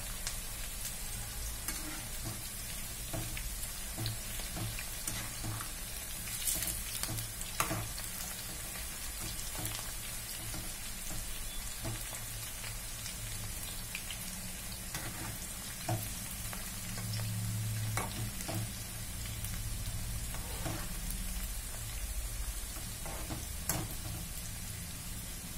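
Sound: wheat flour pakodas deep frying in oil

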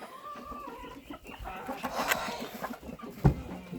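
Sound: chickens clucking

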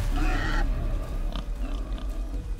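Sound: pig grunting in the video game God of War

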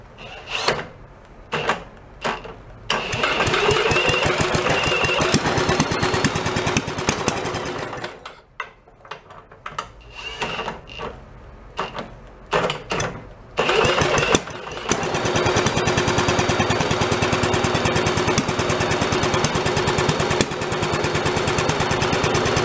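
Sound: antique Briggs engine running and revving up

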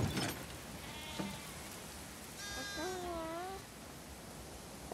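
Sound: sheep bleating in The Last of Us Part II video game

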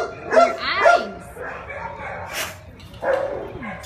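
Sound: dog barking at a shelter

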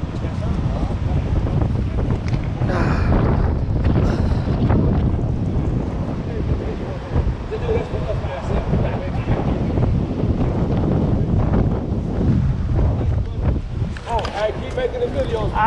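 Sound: strong wind on open water

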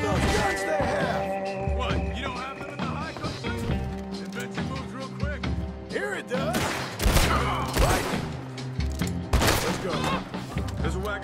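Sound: gunfire in the video game Red Dead Redemption 2

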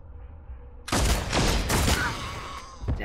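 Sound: pistol gunfire in the video game Warhammer 40K Deathwatch

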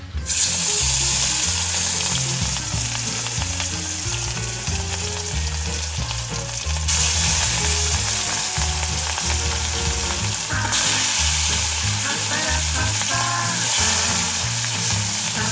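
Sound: fish pieces frying in hot oil

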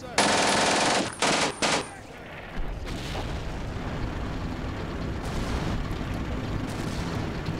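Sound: machine gun fire in Combat Mission video game

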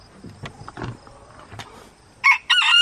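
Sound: rooster crowing and chickens clucking

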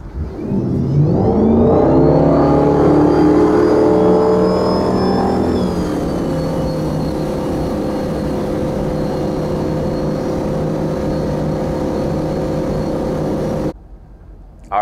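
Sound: ski boat accelerating to 32 mph

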